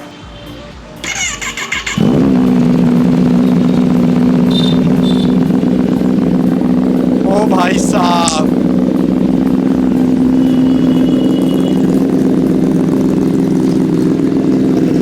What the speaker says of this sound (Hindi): जो फुल सिस्टम एग्जॉस्ट नोट है सिर्फ अभी आपको कोल्ड स्टार्ट नॉर्मल करके सुनाते हैं